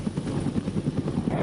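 Rapid, steady thumping of the rotor blades of a Marine AH-1W Super Cobra attack helicopter in flight, a loud pulsing chop with no voices.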